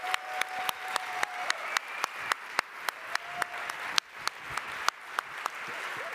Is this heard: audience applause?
yes